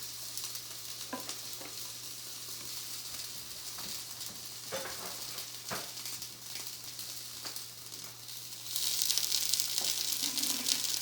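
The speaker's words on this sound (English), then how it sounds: "you can put a cover on your pan, and it kind of helps cook the onions a little bit more" Raw onions sizzle in a covered pan, a soft, even frying hiss with faint stirring ticks. Near the end it swells into a louder, brighter burst of sizzle and steam.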